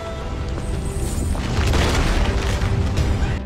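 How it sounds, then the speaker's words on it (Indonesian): An island blows up in an animated kung fu story, a loud sustained explosion with a deep booming rumble and crackling debris that swells and roars throughout. "seketika pulau hidup abadi menjadi meledak"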